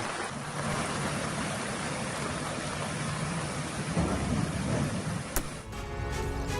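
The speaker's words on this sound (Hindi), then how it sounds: "वाशिम में जोरदार बारिश हो रही है।" Heavy monsoon rain pours steadily in Navi Mumbai, a dense continuous wash of downpour with a brief sharper knock near the end.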